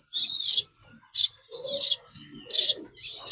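A young oriental magpie-robin kept in a bird shop gives a series of short, bright chirps in quick bursts, close and fairly loud, with softer lower calls between them and no talking.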